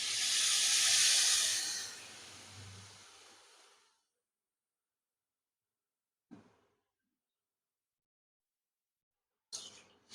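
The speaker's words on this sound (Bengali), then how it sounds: "এখন দিয়ে দেবো জল।" Water poured into a hot pan for a sour sweet potato and mango dish bursts into a loud steamy hiss that fades over about four seconds, followed by quiet broken by two brief knocks.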